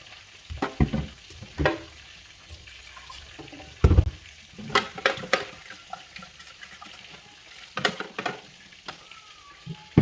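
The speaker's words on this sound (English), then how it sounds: "So now I'm here to check on the meat that I'm frying." Sizzling and crackling of beef frying in a pot close by, with occasional clattering of utensils and a brief watery sound, no talking.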